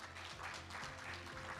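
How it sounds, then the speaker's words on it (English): An audience at an international e-mobility expo and general assembly claps for award winners, a dense steady patter of hands mixed with low hum and some faint murmuring underneath. "Another applause is good for health."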